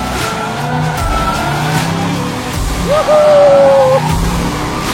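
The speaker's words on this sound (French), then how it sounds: "Là, le drift, ça fait penser à la voltige un peu, hein. C'est tout en glissade." A car drifting sideways through a slide, engine droning steadily while a high tire squeal rises near the middle and holds for about a second; a person whoops excitedly over it.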